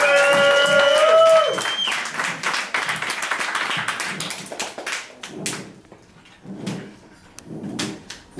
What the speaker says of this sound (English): Nice clap now.